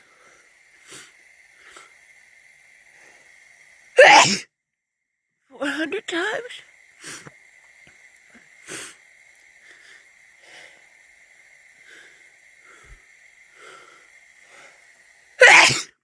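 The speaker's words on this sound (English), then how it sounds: "And then I will sneeze." Two loud sneezes, one early and one at the end, with a few short speech bursts between and a faint steady whine in the background.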